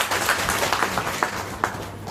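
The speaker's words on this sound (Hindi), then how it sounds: "इसके लिए मैं आप सबके लिए तालियां बजाना चाहता हूँ।" An audience applauds at a public address on maternal and child health work, a dense run of clapping with a few louder claps standing out, at moderate volume.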